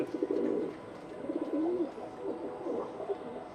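Pet pigeons in a loft give soft, low cooing in a few rolling phrases, close by and fairly quiet over a faint background hiss.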